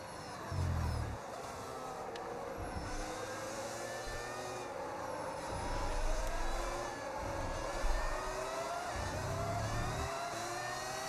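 Formula 1 race car engine in the F1 26 racing game, a steady mid-pitched engine drone with rising and falling revs, background race ambience and no talking.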